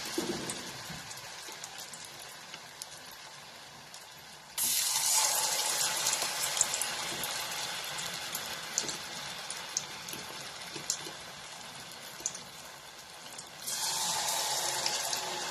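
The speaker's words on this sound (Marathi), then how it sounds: "हे बघा, हे अशा पद्धतीने हे तेलात सोडायचं. तेल गरम झालेलं आहे म्हणून गॅस बारीक केलेला आहे." Mixed vegetable tikkis slipped into hot oil over a lowered gas flame set up a sudden, steady sizzling hiss that holds for several seconds, dips slightly, then swells again near the end.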